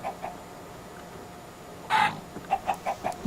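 Chickens in the video game Minecraft cluck in a short series of bright, repeated clucks, with a louder burst midway and several quick clucks near the end, heard alone against a quiet background.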